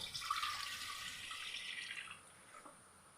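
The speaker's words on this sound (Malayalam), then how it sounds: "ഒരു കപ്പ് വെള്ളം" A cup of water pours in a steady hissing stream for about two seconds, then tapers off into a few faint trickles, close and fairly quiet.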